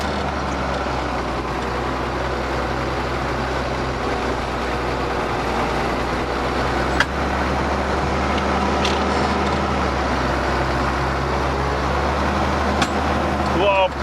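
Tractor engine drones steadily and close while pulling a plough into the corner of an awkward field, a constant low rumble with faint clunks.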